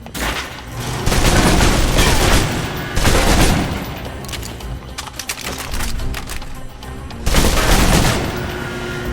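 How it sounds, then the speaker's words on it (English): Loud submachine gun fire from the Alpha Protocol video game rattles in rapid bursts, with dense crackling shots and booms that swell and ease over several seconds without talk. "Now for your submachine guns. If you're trapped in close quarters with multiple opponents, the SMGs can help clear the room quickly."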